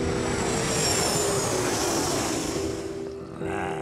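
Jet engine roar from a zombie video game set at an airfield, a loud close rumble with a high whine that fades after a few seconds, then a brief renewed swell.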